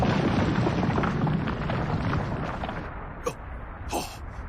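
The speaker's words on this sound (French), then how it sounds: "Il n'a pas pu survivre à une telle explosion" A loud explosion in a combat zone, a sustained broadband roar and rumble that gradually fades, followed by a couple of sharper distant bursts near the end.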